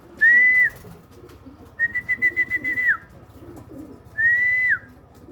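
Racing pigeons arrive at a loft, giving three clear whistled call bursts with a soft trilling flutter between them, near and fairly loud over a low background rumble.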